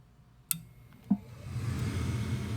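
A home HVAC furnace inducer motor switches on: two sharp relay-like clicks come first, then a low, steady motor hum and whoosh builds and holds, close and moderately loud.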